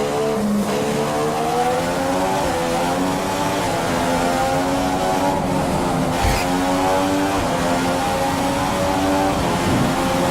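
An F1 race car in the F1 2015 video game, at the Brazil race, accelerates out of the pits with a loud, continuous high-pitched engine whine that climbs through repeated gear-shift sweeps.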